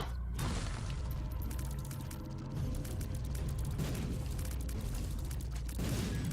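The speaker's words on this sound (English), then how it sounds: "it's so lucky that freaking explosions don't damage us, or this would be so freaking dangerous" Repeated booming explosions and bursts from a video game, dense and loud with layered mechanical clatter, one blast after another with no pause.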